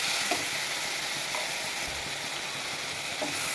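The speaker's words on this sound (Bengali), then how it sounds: "লবণ দিয়ে আমি ভেজে নিয়েছি" Mixed vegetables fry with salt in a pan, giving a continuous close sizzle with faint stirring scrapes, and nobody speaks.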